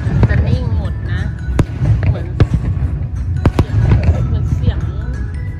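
At an international fireworks show on Pattaya beach, fireworks burst in sharp, scattered booms and cracks, loud and fairly close, while someone talks throughout.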